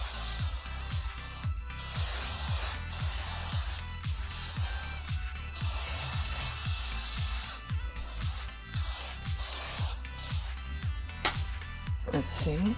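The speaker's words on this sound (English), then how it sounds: "Should I put hairspray on it just to keep it up because it's starting to weigh down?" Hairspray from an aerosol can is sprayed onto an Afro in short bursts, each a sharp hiss with brief gaps between. Someone talks over the spraying.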